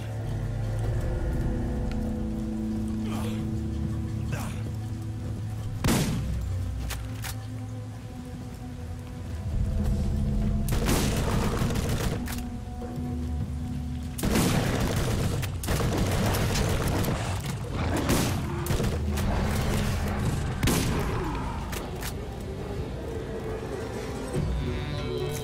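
Gunfire and a grenade blast in Borderlands: scattered loud bangs and bursts of shots break through a constant dense rumbling background, with several heavy booming hits spread over the stretch.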